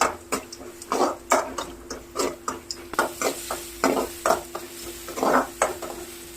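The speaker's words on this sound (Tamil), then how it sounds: "கொஞ்சம் ஆனியன் வந்து கொஞ்சம் ஃபாஸ்ட்டாக வந்து ஃப்ரை ஆகும்" Onions fry in oil, sizzling and crackling steadily in a pan while a utensil stirs and scrapes repeatedly, close and busy, with no talking.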